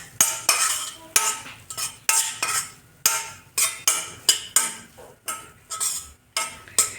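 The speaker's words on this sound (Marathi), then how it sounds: "तर याला छान आपण भाजून घेऊया तुपामध्ये" Almond and walnut powder roasts in ghee in a kadhai, stirred with a spatula in quick, steady scraping strokes that clink rhythmically against the metal pan, close and continuous.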